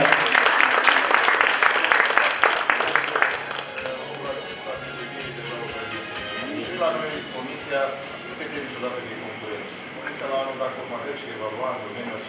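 Audience applause at the Topul Personalităților 2017 district awards ceremony for an honoree in the services business, with loud dense clapping for the first few seconds that then thins into scattered claps under voices.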